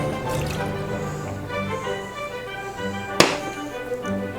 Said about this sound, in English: Let's pour in our almond milk